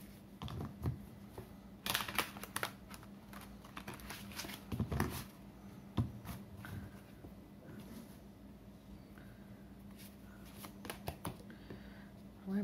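Tarot cards being shuffled by hand, a string of quick crisp riffling and slapping bursts with short pauses, fairly close and quiet against a faint steady hum.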